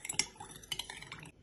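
A spoon stirs sugar into a glass of warm water and milk, giving a few quiet clinks and scrapes against the glass in a short, close-up, irregular burst with no talk.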